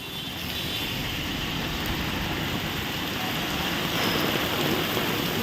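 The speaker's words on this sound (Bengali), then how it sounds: "এখন বেশ জোরে বৃষ্টিটা পড়ছে" Heavy night rain pours down steadily with gusty wind, a dense, even roar of falling water that fills the whole scene without pause.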